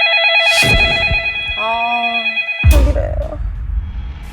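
A telephone rings with a bright electronic trilling ring in two bursts separated by a short gap, loud and close, with other sounds between the rings.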